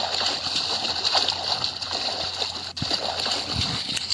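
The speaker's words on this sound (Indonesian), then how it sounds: "mari kita berenang" Water splashing and sloshing as a character swims in the Roblox game Brookhaven, a steady continuous wash with no talk.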